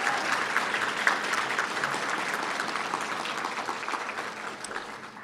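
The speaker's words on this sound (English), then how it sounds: "Give Hunter and Micaiah a big round of applause" Audience applause fills a student awards night, a steady wash of many hands clapping at close range that holds evenly for several seconds before easing slightly toward the end.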